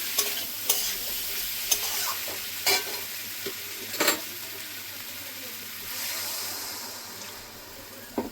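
A pan of papaya curry frying and being stirred, with a continuous close sizzle and bubbling and several sharp scrapes and clinks of a utensil against the pan.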